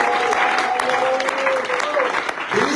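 A church congregation at a revival service in Aboisso applauding, with dense clapping throughout and voices calling and singing over it, loud and close.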